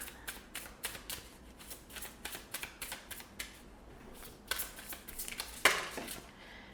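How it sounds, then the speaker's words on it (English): Oracle cards are shuffled by hand in a run of soft, rapid riffling flicks, close and quiet, ending with a brighter final burst as the deck settles. "We're gonna grab our oracle cards now."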